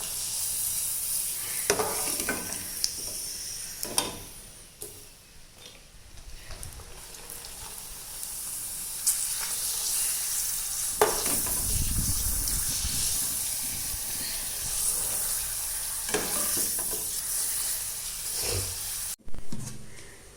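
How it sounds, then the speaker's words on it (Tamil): Hot oil sizzles and hisses steadily as papadums fry nearby, with occasional stirring clinks and crackles, no voices. "இப்போ நாங்கள் அப்பளம் பொரிக்க போகிறோம்"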